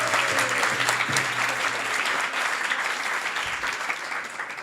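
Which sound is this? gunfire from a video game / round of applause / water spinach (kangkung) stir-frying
round of applause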